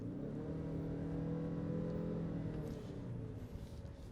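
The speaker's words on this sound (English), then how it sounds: "Okay, that is the sound of a CVT" A 2022 Ford Maverick pickup with a 191-horsepower engine and CVT accelerates hard in sport mode, giving a sustained, steady droning engine whine that holds a near-constant pitch, heard from inside the cab with no talking.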